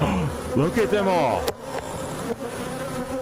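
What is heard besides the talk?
swarm of bees buzzing in a tree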